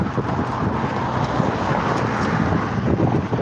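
Steady, loud wind buffeting a rider on a vintage bicycle on the road from Hull to Hornsea, a continuous close roar with gusty swells and no voices.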